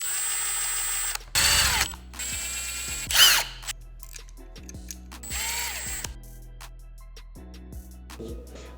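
A ratchet wrench works on bolts during a titanium bolt swap on a KTM 990 Duke stunt bike, with several short bursts of clicking and mechanical whirring separated by pauses, close and fairly loud in a quiet shop.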